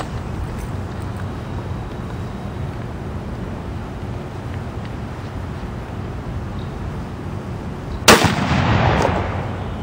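A single sharp, loud rifle shot from a Steyr SSG P2 bolt-action rifle cracks out at an outdoor shooting range after a stretch of steady wind rumble, followed by a brief echoing tail.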